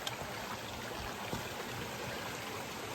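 A small stream at a river crossing on a Mt. Moosilauke hike gives a steady, soft, continuous trickling rush of flowing water, faint and even, with no voices.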